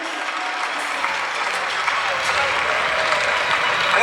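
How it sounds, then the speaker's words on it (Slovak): Crowd applause at a street racing event in Ostrava, a dense sustained wash of clapping that swells slightly toward the end. "Obrovský potles pre Power Tires a pre Honzu Fojtíka za toto obrovské gesto."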